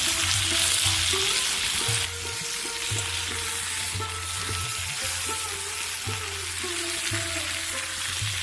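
Vegetables for dudh shukto fry in a pan with a little oil and salt, a loud, steady sizzle broken by regular stirring scrapes about once a second, with no voices.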